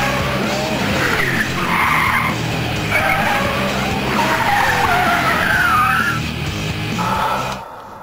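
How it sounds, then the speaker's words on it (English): A car swerving and skidding in a driving stunt, its tires squealing loudly in long, wavering bursts over a roaring engine for several seconds before cutting off abruptly. "We're going to basically swerve, skid and lose control"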